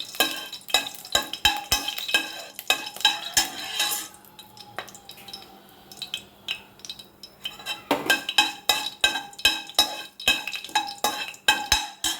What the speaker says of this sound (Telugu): కొంచెం వేయించుకోవాలి మెంతులు